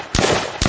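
A semi-automatic gun fires in an Unreal Engine zombie video game. Two close, sharp shots ring out about half a second apart, and the first one's ringing tail carries on between them.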